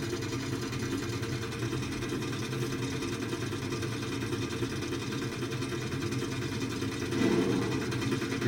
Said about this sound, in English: when you go over these hills, it just makes a clicky clack